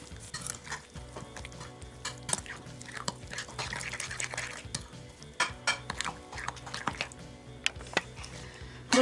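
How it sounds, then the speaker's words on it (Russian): A spoon stirs a tomato marinade for Korean-style tomatoes in a bowl. Quiet, irregular scraping and light clinks repeat close by, with no voices. "Теперь этот маринад я весь должна перемешать."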